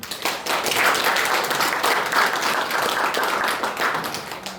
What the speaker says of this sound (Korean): 박수로 한번